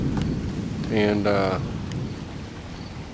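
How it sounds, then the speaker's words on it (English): Steady rain falls on an evening with thunder, with a constant wash of rainfall and a brief burst of rumbling noise partway through; someone speaks a single word over it. "now it's sort of raining all evening"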